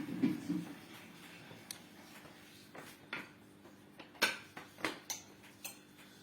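A spoon cuts through dough for coconut puli pitha, making a scattering of faint, sharp clicks and taps against a quiet background.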